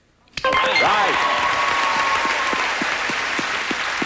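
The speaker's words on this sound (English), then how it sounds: "Bethany, your applause is sounding a little quiet." Studio audience bursts into applause on the 1984 game show Trivia Trap, with sudden loud clapping that holds steady while a voice speaks over it.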